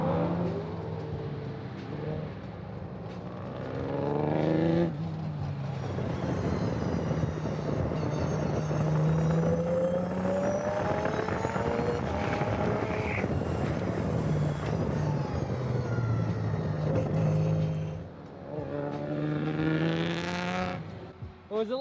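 A formula race car driven on a track, its engine droning and revving with pitch climbing and falling through the gears, loud and continuous throughout.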